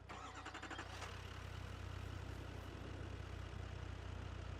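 A Kubota mower engine in the video game Farming Simulator 22 cranks with a rapid starter chatter, then settles into a steady, even engine drone that holds at moderate level to the end.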